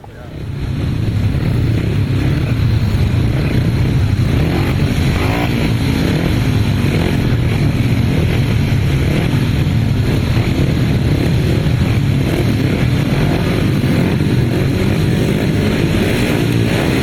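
Several 500cc solo motorcycles race around a grasstrack, a loud continuous engine roar holding steady throughout with no pauses.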